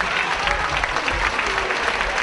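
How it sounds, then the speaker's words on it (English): Applause from a concert audience for a civic symphony orchestra after a Christmas concert, a dense and even roar of clapping, full and sustained, with a murmur of crowd voices. "How about another nice round of applause for the orchestra, ladies and gentlemen?"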